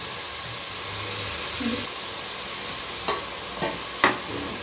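Steady hiss of masala with tomato, turmeric and ginger-garlic paste sizzling in a pan, with a few scraping clicks of a spoon stirring it, no talking.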